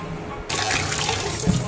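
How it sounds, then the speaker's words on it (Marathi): Tap water running into a sink while goat trotters are washed, a sudden steady close gush that starts after a brief pause and carries on with light splashing and clatter, no talk. "पाया थंड पाण्याने धुवून घेतल्यानंतर परत एकदा ते गरम पाण्याने सुद्धा धुवून घेतलेलं आहे मस्तपैकी"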